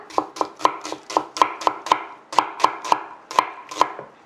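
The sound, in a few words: knife thinly slicing onion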